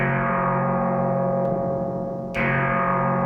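A spring reverb in a modular synth setup, its emphasis control boosted for a brightened, noisier tone: a loud, steady, sustained wash with hiss that dips briefly and then swells back.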